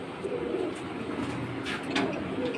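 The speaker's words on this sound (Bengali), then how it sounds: "তো রকি ভাই, আমাদেরকে আরো কিছু কবুতর দেখান এখান থেকে কম বেশি।" Racing pigeons coo in breeding cages, a soft repeated cooing against steady low background noise, fairly close and without talk.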